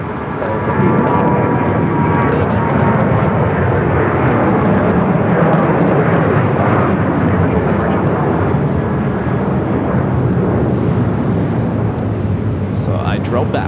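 An American Airlines airliner takes off from runway 7 left at Phoenix Sky Harbor, a loud, continuous engine roar that holds steady throughout, with radio voices speaking over it.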